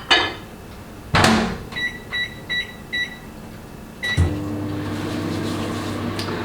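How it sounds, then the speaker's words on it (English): A microwave oven heating milk hums steadily, with a door clunk, a row of four short beeps, then another clunk and the motor humming on, nobody speaking. "So I pop that in the microwave for 35 seconds."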